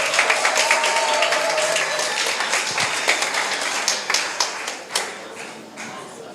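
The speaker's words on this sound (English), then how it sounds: "Give them a round of applause," Applause from an audience at a teachers' association spelling bee final, scattered individual claps and taps that thin out into distinct sharp claps toward the end, with no speech over it.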